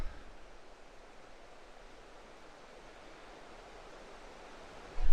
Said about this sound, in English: it's so nice to hear that white water just washing over the rocks